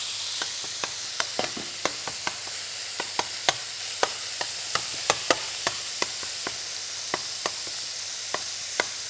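Beef frying in a hot pan for a pro chef's Korean dish: a steady, close sizzling hiss broken by sharp spattering pops at irregular intervals throughout, with no voices.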